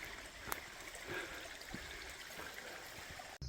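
A stream flows at a water source along the Appalachian Trail near Brown Mountain Creek, a soft steady trickle and babble heard faintly and continuously, with a brief knock near the end.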